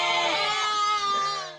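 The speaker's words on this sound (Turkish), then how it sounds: "panik halinde ses çıkaran kuzularını" A lamb in a barn bleats in panic just before an earthquake near İzmir, giving one loud, drawn-out wavering cry up close.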